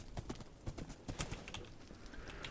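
A horse's hooves clip-clop in Minecraft, quick irregular hoofbeats at a gentle pace, fairly quiet and close, running throughout with no speech.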